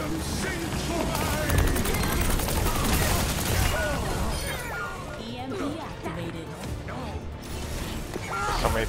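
Overwatch 2 turrets firing in rapid mechanical bursts amid chaotic combat noise, loud and continuous, with players talking over it.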